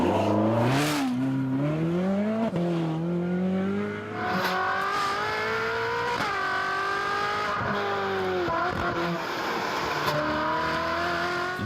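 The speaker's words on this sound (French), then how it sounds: "bruit de cette Ferrari à l'intérieur est déjà enthousiasmant, mais le bruit extérieur est encore plus incroyable" Loud Ferrari Aperta engine heard from outside, revving and shifting through rising, falling harmonic sweeps, close and continuous for the whole stretch with no speech.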